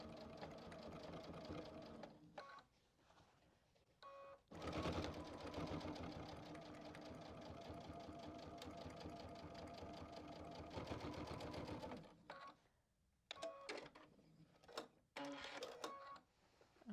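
A sewing machine stitching the quilted gusset of a backpack at a short 1.8 mm stitch length: steady mechanical whirring runs start and stop, with one long continuous stretch in the middle, close and clear.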